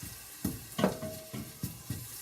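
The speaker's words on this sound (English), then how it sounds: "Now I'm just sauteing some onion for the soup." Chopped onion sautés in a pan for a vegetable chowder, a soft sizzle broken by several distinct stirring scrapes at irregular intervals, close and fairly quiet with no voices.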